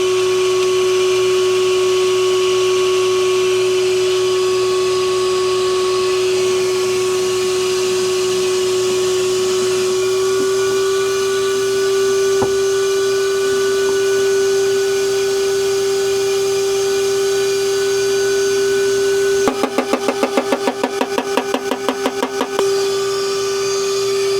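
A seeder machine plants zinnia seeds, producing a steady motor hum for most of the stretch. A rapid burst of sharp mechanical clicks comes near the end, then the hum continues alone.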